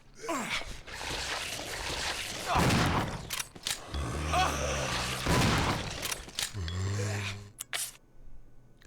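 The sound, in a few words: shotgun shots in the video game Resident Evil 0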